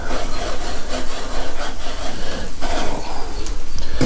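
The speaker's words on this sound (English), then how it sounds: "I'm gonna grab this and clean that grate off" A brush scrapes steadily across a hot grill grate while cleaning it before steaks go on, giving a loud, close, continuous rasping with uneven back-and-forth strokes.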